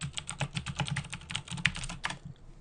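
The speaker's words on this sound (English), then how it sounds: "I'm going to type in a couple of keywords here" Keywords typed on a computer keyboard: a quick, steady run of close key clicks lasting about two seconds before stopping, with no talking.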